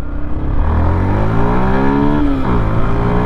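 A fully modified Yamaha FZ-S v3 motorcycle revs hard with the clutch held in, its loud close engine note climbing in pitch, then dropping and rising again.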